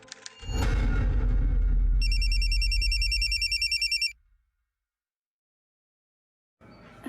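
An electronic telephone ring in a Goa crime drama scene, a rapid trilling double-burst tone heard once, loud and close over a deep rumbling musical sting, then cutting to silence.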